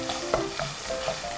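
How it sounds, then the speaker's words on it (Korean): Garlic, ginger, scallion and dried chilies stir-fried in chili oil for a spicy Chinese sauce, a steady close sizzle broken by a few quick spatula scrapes and clacks, with no talking. "여기에 마늘, 생강, 대파, 건고추를 넣고 볶아주세요"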